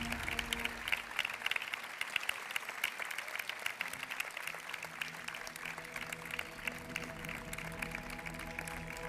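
An audience at the Miss World Spain 2023 pageant claps in a long, sustained ovation, a thick, even roar of hands with a steady musical tone humming underneath throughout.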